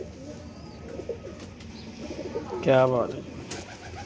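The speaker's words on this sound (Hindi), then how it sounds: "ये देखें जी ये कबूतर है उस डब वाली का नर है" A male pigeon, the mate of a hen in a pigeon fancier's loft, gives a short resonant coo near the end, under faint background chatter and a man's brief remark.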